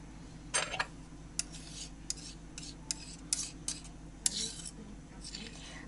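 A spoon stirs icing for decorating an Easter kulich, the mixture made with condensed milk, giving soft scattered scraping and clinking strokes against the bowl at close range, irregular and fairly quiet, with no speech.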